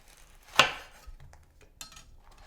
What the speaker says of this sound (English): Then immediately cut lengthwise and then slice into chunks, to big chunks like this